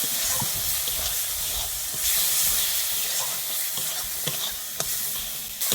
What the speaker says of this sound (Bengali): আমি এবারে এটাকে ভালোভাবে কষিয়ে নেবো আবারও